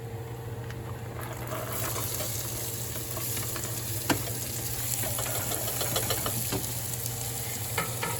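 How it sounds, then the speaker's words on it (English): White onions frying in a pan, a steady close sizzle with occasional stirring clicks and scrapes over a low constant hum, no talking. "when you add the onions, you're gonna start the frying process"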